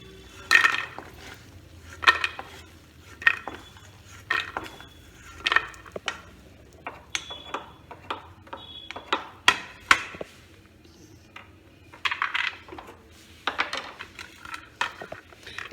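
Fried lentil dumplings (bori) lifted out of a pan, heard as a series of light metallic clinks and scrapes of a utensil against cookware, spaced a second or so apart over a quiet background.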